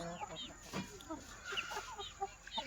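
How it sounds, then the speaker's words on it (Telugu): A small flock of three roosters and thirteen hens clucks softly and intermittently, faint and somewhat distant, with a few higher calls scattered through. "ఒక రెండు మూడు పుంజులు ఉంటాయి మిగతాటివన్నీ పెట్టలే"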